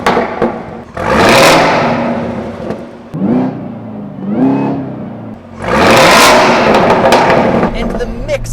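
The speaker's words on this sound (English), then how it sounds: "And the mix of the barking loud V8" A 2017 Chevrolet Camaro ZL1 with its supercharged V8 and electronically controlled dual-mode exhaust revs hard in two loud, roaring bursts, with rising whining pulls between them.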